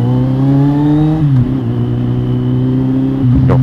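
Kawasaki Z800 motorcycle engine revving hard for a wheelie, a loud close-up whine with its pitch stepping down and rising again, then a quick throttle blip at the end, no voices.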